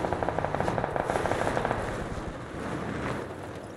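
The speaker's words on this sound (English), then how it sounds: "All I can hear is gunfire." Rapid bursts of automatic gunfire in the battle game PUBG, a fast rattling stream that fades into rumbling background noise, moderately loud.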